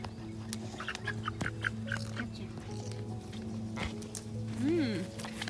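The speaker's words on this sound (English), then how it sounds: "Let's get the chickens out now." Backyard chickens cluck and call as they are let out, scattered bird noises under and between people talking nearby.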